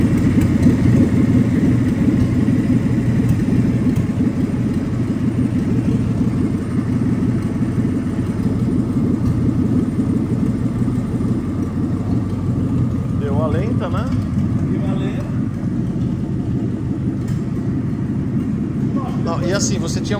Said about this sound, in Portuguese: Se você prestar atenção no ronco do barulho do motor em si, ele tá funcionando redondo.